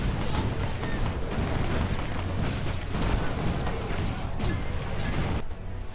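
Mortar artillery fire in the strategy game Rise of the Reds, a continuous rumbling barrage of low booms and crackling impacts at steady loudness, easing off slightly near the end.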